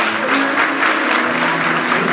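Congregation applauding the Lord during a Portuguese-language church worship service, dense sustained clapping filling the room at close range, loud and even from start to finish.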